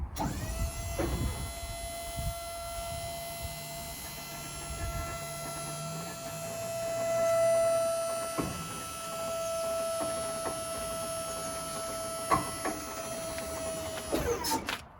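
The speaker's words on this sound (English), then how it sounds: "Let's extend it out and I'll show you how far it comes out." The hydraulic boom arm of a traffic sign truck extends about 8 feet, a steady electric motor whine with a constant hum, starting and stopping with clicks and clunks.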